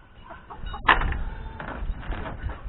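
Turkeys in a pen on a farm after a snowstorm give a few close, loud gobbling and clucking calls, with a sharp burst near the start and softer clucks after it.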